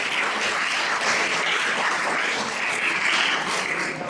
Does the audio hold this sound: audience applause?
yes